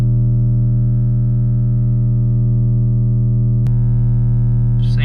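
A steady 40 Hz bass test tone plays loud and unbroken through an inexpensive car audio speaker, with a buzzy, distorted hum rich in overtones and a brief click partway through.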